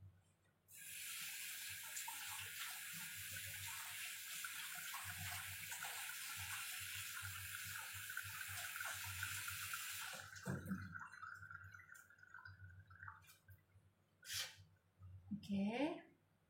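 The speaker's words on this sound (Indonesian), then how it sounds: "mau cuci tangan dulu" Hands are washed under a running tap: a steady gushing stream of water plays for about ten seconds, then stops, followed by a few splashes and drips, with a voice speaking briefly near the end.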